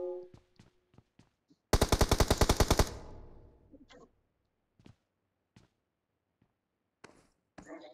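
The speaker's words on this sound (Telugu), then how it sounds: "బుల్లెట్ సౌండ్ వచ్చింది" Rapid burst of automatic gunfire in the BGMI mobile battle royale game, about a dozen sharp shots in a second, surrounded by scattered single taps and clicks.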